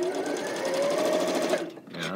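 A home sewing machine piecing quilt blocks runs at a steady whirring pace with a rising mechanical tone, then stops abruptly near the end, followed by a brief soft sound.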